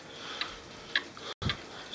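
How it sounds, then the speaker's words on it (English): Antique quail cuckoo clock with a weight-driven movement ticking steadily in the background, sharp regular ticks spaced about half a second apart, moderately close with a brief dropout near the end. "Quail cuckoo clock in the background."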